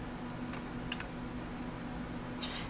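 Keys pressed on a ChamSys MagicQ lighting console, a few soft, quick clicks, one pair close together and another a moment later, heard faintly over a steady background hum with no speech.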